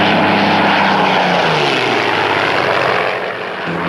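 A restored Curtiss Kittyhawk propeller warbird flies past with a loud, continuous engine drone and propeller roar whose pitch slowly drops as it passes, with no talk over it.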